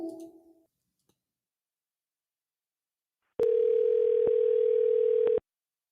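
Steady telephone dial tone holds alone for about two seconds after a short stretch of silence and a brief burst of voice at the start, sounding loud and continuous with a couple of faint clicks.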